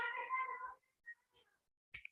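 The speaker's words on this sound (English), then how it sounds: "My cat is here. Meow, meow." A house cat meows briefly and faintly near the end, after a stretch of close talking voice and a few quiet scattered sounds.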